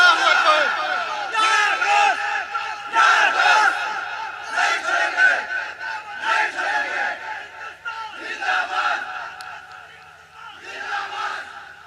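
Crowd at a naat gathering shouting Allahu Akbar in response to a takbir call, several loud massed chant bursts in rhythmic succession, close and energetic, fading somewhat toward the end.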